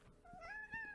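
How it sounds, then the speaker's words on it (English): A house cat resting on a lap gives a short, soft meow, a single quiet rising-and-falling call heard close up. "That's my cat."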